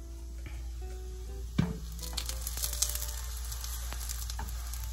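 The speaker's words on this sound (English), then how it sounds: "It's sizzling! It's sizzling!" Food sizzles and crackles steadily in a hot pan while a crunchwrap is being cooked, with a few soft stirring or shifting sounds partway through.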